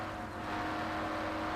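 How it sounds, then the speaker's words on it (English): A loud, steady car engine drone in the video game Mafia: The City of Lost Heaven on Xbox, a constant hum running continuously without pauses. "This car is so loud."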